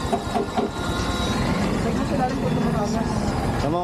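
A motorcycle with a fuel leak runs at a steady idle, its engine hum low and continuous while people talk over it.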